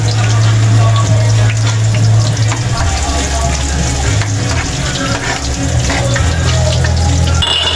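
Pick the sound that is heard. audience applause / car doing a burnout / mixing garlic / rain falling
mixing garlic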